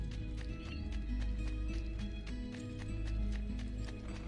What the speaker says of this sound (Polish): A jednak są koniki.